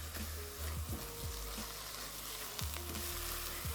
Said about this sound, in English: Give this a stir and let it continue to cook.